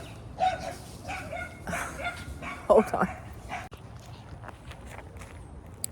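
A dog barks outdoors in a garden on a fine day, trading a few yips and barks with a neighbor's dog, mid-distance, mixed with a person talking and footsteps.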